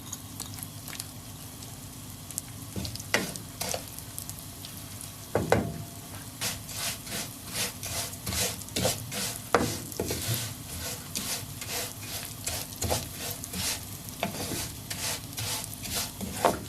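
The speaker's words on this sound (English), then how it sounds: "fry 250 grams of Spanish fideo pasta until it turns golden brown" About 250 grams of Spanish fideo pasta fries in hot oil in a pan, a steady close sizzle broken by frequent scraping and stirring clicks as the strands are moved around.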